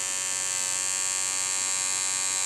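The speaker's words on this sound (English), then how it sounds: "And I'll turn the vacuum on." Vacuum pump on a homemade CNC pick and place machine, running alone as a steady, loud, high-pitched electric whir with a constant tone and no breaks.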